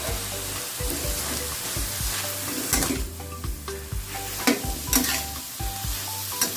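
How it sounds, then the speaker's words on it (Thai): Mussels stir-fried with spring onions in a pan, stirred with a steady sizzle and repeated scraping strokes of the utensil, with a few louder clacks against the pan, close and alone. "หอยบางคู่ผัดใส่ต้นหอม ลงไปค่ะ คนทางนี้ให้เข้ากันหน่อยนะคะ"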